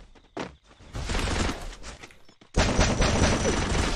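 Bursts of rapid gunfire from a Free Fire battle royale match: a short shot, then sustained loud fusillades that stop briefly before a dense barrage resumes, with no talk over it.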